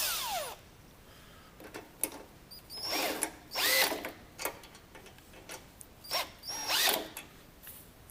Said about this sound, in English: Take our power drill and